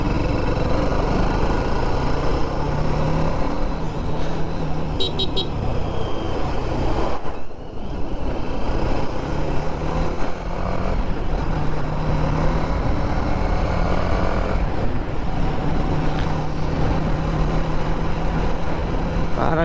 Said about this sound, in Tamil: நிஷான் மைக்ரா